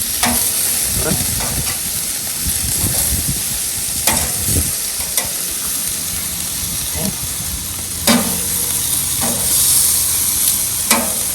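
Beef kebabs sizzle steadily on a hot cooking surface, a continuous frying hiss broken by occasional sharper pops and scraping turns, with faint talk in the background.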